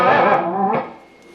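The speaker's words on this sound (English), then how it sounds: "Then you do the whammy bar." Distorted electric guitar with an effects unit, playing a whammy-bar dip in a song; a single sustained, wavering note bends and swoops, then fades out over about a second, loud and close.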